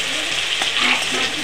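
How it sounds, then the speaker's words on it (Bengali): Shrimp fry in hot oil, giving off a loud, steady, close-up sizzle with no pauses. "চিংড়ি মাছগুলো ভাজা হয়ে গেছে"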